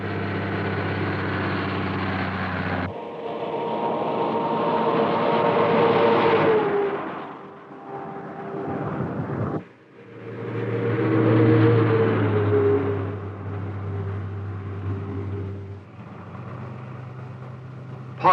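Cement truck pulling out of a concrete batching plant at Glen Canyon Dam in 1961, a loud diesel engine revving and droning, then a second rumbling pass, continuous heavy motor noise with no talking.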